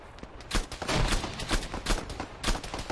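Repeated gunfire in Arma 3 during a King of the Hill match, several sharp shots in irregular bursts at mid distance, some close and loud, with a continuous rumble of battle beneath.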